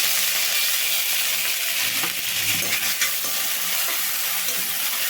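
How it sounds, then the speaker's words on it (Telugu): Onions sizzle and crackle steadily in a hot pan, with occasional stirring scrapes and light clinks of a utensil. "ఉల్లిపాయ ముక్కలు వేగాలండి"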